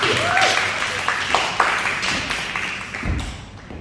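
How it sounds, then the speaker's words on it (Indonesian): A church congregation claps in a sustained burst of applause during a Sunday service that gradually thins out, with scattered louder slaps. "Beri tepuk tangan dulu yang baik ya."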